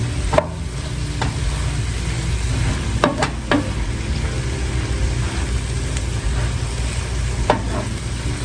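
Pork chops and cabbage sizzle steadily in a frying pan, a loud constant crackle and hiss with occasional sharper pops and clinks of stirring throughout.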